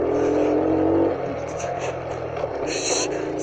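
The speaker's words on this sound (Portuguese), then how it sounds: "Tu anda direitinho nessa moto aqui." A small 50cc motorcycle engine revs close by while riding through a favela in second gear, its buzzing drone easing after the first second and then holding steady, with brief whistle-like tones over it.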